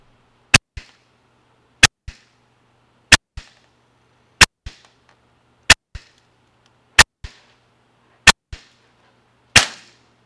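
A paintball marker fires eight sharp, loud, evenly spaced shots into a chronograph about every 1.3 seconds, each crack followed by a quieter snap, with no talk.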